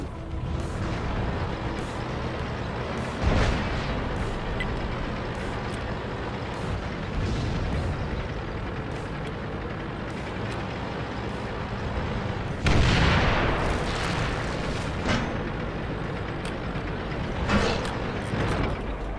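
The 8.8 cm Pak 43 gun of a JagdTiger tank destroyer fires in World of Tanks over a constant engine rumble, with heavy booms near the start and a louder, sharper blast later.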